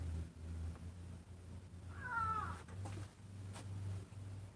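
A cat meows once, a short rising-falling cry in the middle, over a steady low background hum in an indoor workspace.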